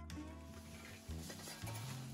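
Tomahawk steaks sizzle at a camp cooking spot, a steady broad frying hiss with a low rumbling undertone that swells and shifts a few times, close and fairly loud with no talk.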